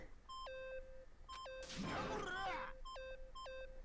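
Electronic beeping in the video game Danganronpa: Trigger Happy Havoc, heard as short chimed tones stepping downward, repeating in clusters, with a louder noisy burst breaking in midway before the beeps return.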